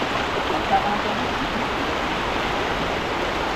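Steady rushing floodwater fills the scene, a constant broadband roar like a fast-flowing river heard up close, with no breaks.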